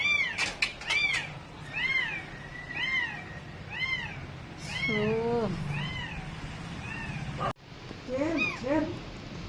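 A cat meows repeatedly and close by during a rescue, its rising-and-falling cries coming in a steady series over background noise, with people talking nearby.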